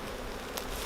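Honeybees, some carrying red pollen, being moved into a new hive box, give a steady, close, dense buzz that hardly changes.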